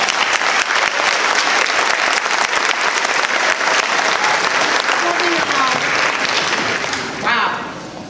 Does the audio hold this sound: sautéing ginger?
no